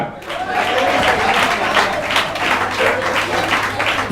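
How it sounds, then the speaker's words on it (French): A church congregation breaks into loud, sustained applause, dense steady clapping with some raised voices mixed in, close and filling the room throughout. "On acclame le Seigneur"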